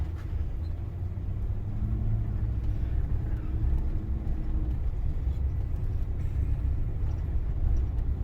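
A car drives through the white gypsum dunes at White Sands National Park, heard from inside as a steady low engine and road rumble that holds at an even level throughout.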